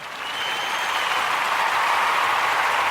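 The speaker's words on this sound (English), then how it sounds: "So let's give all the Ujamaa born a round of applause." An audience applauds during a Kwanzaa Ujamaa celebration, steady clapping that builds in the first half second and holds at a moderate, even level without speech.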